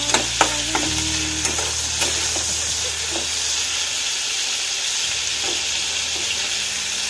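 Prawns fry in hot oil in a pan with a steady loud sizzle and hiss, and a few sharp stirring clinks near the start.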